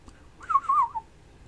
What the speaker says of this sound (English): just in time for it to press a child's whistle to its mouth and